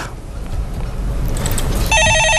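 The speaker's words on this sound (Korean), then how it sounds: "전화 받아보겠습니다." A telephone rings during a Korean stock market call-in broadcast, first under a low rumble of studio sound, then a loud repeating electronic ring pattern of short pulsed tones near the end.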